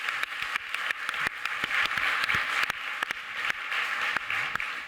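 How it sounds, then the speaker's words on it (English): Audience applause at an awards ceremony, a dense, steady wash of many hands clapping throughout with sharp individual claps standing out, fairly loud and with no talking. "give them a hand, please."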